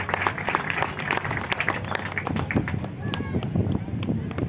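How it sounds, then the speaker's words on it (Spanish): Audience applause on stage at an event for a regional TV program, busy close clapping mixed with crowd noise and voices throughout, fairly loud and uneven. "la diputada electa, para quien pide un aplauso, Consuelo Veloso Ávila"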